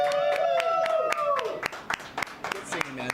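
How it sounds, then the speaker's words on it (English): A handful of sharp, separate claps ring out in a loose rhythm at a Mortal Kombat tournament pre-show, with a sustained voice heard alongside the first half. "So let's give a round of applause for Jose Velasquez."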